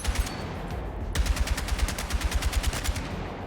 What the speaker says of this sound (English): The gun is meant to shoot like this.